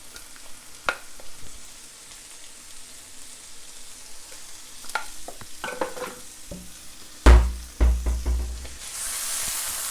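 Leftover vegetables reheat in a pan with smoked paprika, giving a steady sizzle broken by scraping stirs and a few louder clatters and bumps near the end.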